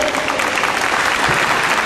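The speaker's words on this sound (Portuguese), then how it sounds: "uma salva de palmas para vocês" An audience at a legal talk on outsourcing in labour law applauds the speakers with steady, dense clapping that fills the short moment.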